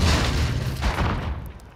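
Grenade blast in a first-person shooter game: one heavy, close boom that rumbles loudly and then fades over a second or so, with no talk over it.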